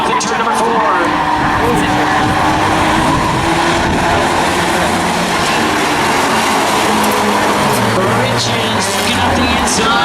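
Race cars roar continuously around a short oval track in a Claimers race, a dense, loud engine drone with passing swells, under steady commentary from a race announcer.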